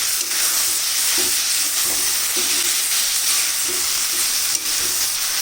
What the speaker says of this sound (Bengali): ঢাকাটা খুলে এই যে পনিরগুলো ভেজে রেখেছিলাম এবার এটাকে দিয়ে দেবো পনিরটার সঙ্গে ভালো করে মিশিয়ে দেবো